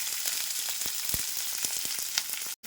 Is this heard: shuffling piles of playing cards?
no